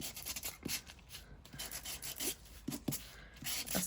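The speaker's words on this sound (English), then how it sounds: "sand down." A handmade paper card label is rubbed with sandpaper in short, soft scratchy strokes, close and quiet, repeating irregularly with no talking.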